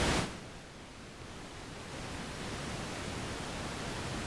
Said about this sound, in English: And so that's just noise.